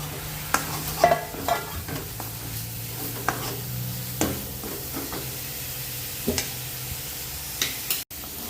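Homemade spices (turmeric, red chili powder, garam masala) for a black-eyed pea curry sizzling in a pan, with steady frying hiss and repeated scraping stirs of a spoon close by.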